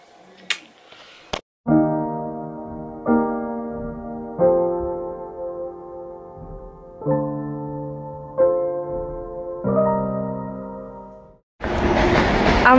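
A train runs along the rails, its motors humming in a series of stepped tones, ending with a sudden burst of rushing noise.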